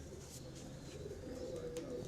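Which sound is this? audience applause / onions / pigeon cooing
pigeon cooing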